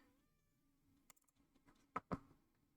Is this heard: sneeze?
no